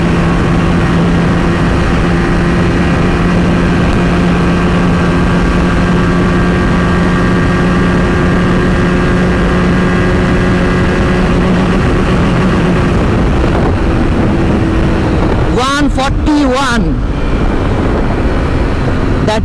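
A 2022 KTM RC 200 motorcycle's 200cc engine roars loudly at high, steady revs during a top-speed run with heavy wind noise, followed by a brief burst of gear-shifting sounds near the end.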